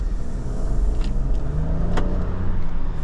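A 2024 Nissan Rogue's turbocharged three-cylinder engine accelerates under medium throttle, a steady cabin drone whose low pitch climbs smoothly and stays loud and close throughout.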